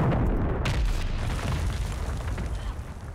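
MGB nuke killstreak detonating in Modern Warfare 3, a massive sustained booming roar that is loud and close, rumbling and slowly fading over several seconds.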